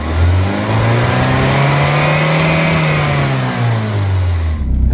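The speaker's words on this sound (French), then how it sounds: "T'as comme il tourne le moteur?" A van's engine revving up under acceleration, loud and close, the tone rising and holding before dropping away near the end, with no voices.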